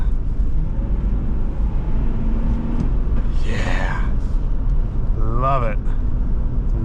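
A deep, steady engine rumble from a moving 2004 Ford Explorer with a 4.6L V8 runs throughout, with someone speaking briefly over it.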